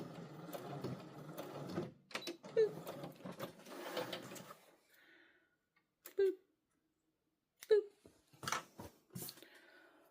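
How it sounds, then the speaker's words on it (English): A Brother CS7000X sewing machine runs in short bursts while back stitching, its motor whirring close and steady, then pausing between brief stops with sharp electronic beeps; a voice talks over parts of it. "And stop at the end and back stitch to lock in those stitches."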